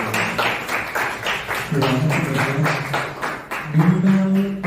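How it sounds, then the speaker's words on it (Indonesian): A classroom of students claps in quick, fairly even rhythmic bursts, close and loud, with voices chanting along through the clapping. "Boleh saya minta tolong pengurus kelas kasih tepuk tangan dulu ke kita."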